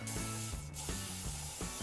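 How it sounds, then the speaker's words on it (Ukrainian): A VOIN aerosol spray can sprays in short hissing bursts, several quick pulses in a row, close up and fairly quiet, with rattling clicks between them. "цей спрей можна використовувати у будь-якому положенню"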